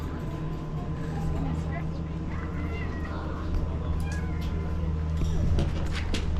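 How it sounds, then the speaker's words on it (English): A tiny kitten meows at a café table in the Dolomites, its thin cries rising over a constant low traffic rumble while people talk nearby. "He's the tiniest kitten."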